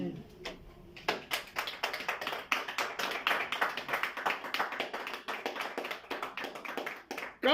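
A church congregation bursts into sustained, lively clapping to acclaim the Lord, with dense hand claps rising after a moment and continuing steadily to the end.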